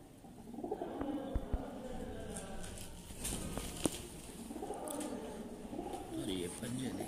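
Kasuri pigeons coo softly in low, rounded calls amid background murmur and faint voices, with a couple of sharp taps.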